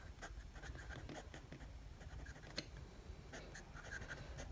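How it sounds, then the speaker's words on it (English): A fountain pen with a 14 karat music nib, a wet writer, scratches across paper in short, faint strokes with small pauses, close and quiet against a soft background hiss. "it's a wet, wet writer. Beautiful pen to write with."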